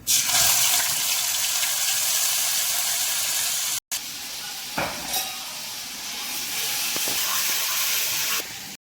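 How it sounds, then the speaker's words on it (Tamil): Mustard and cumin seeds splutter in hot oil with a loud, steady crackling hiss that cuts out briefly, then carries on with scattered pops. "கடுகு, சீரகம், கடுகு ரெண்டுமே வந்து பொரிய ஆரம்பிச்சிருச்சு"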